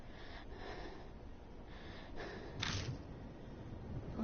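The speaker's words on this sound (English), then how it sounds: "The only sound left is that of shaky breathing." Shaky breathing in the horror game Death Mark comes as a few faint, uneven breaths and one sharper gasp over a low, quiet background.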